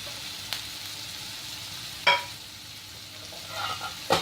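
Cauliflower and cauliflower leaves stirred in a pan over a slow to medium flame, giving a low steady sizzle with a few sharp scraping strokes of the spoon at intervals, close up and without speech.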